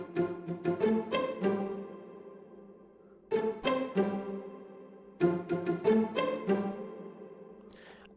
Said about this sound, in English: One of it is this pizzicato sound,